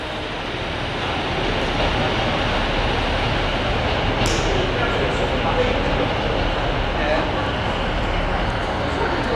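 A passenger train rolls into a station on a rail tour, a steady low rumble building and holding close by, with people speaking over it.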